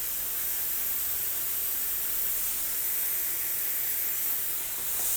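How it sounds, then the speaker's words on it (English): Spray of activator onto hydrographic film for water transfer dipping: a steady, even hiss that runs without a break for about five seconds, fairly close and alone. "spray the activator"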